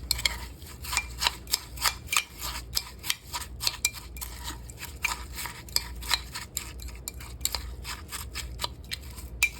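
Chip crumbs being stirred into a tuna noodle casserole with butter, heard as a series of sharp, quiet scraping clicks of a utensil against the dish in an irregular rhythm, close and without talk.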